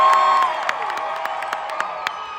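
A large concert crowd at a show cheers and whoops loudly, a dense sustained roar with scattered shouts and sharp whistles cutting through, fading slightly after the first half second but staying strong throughout.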